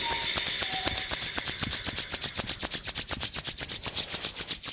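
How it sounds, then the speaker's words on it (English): Two hands rubbing briskly against each other during a yoga session, a close, quiet run of quick rhythmic swishing strokes that speeds up and repeats steadily. "rub your hands against each other"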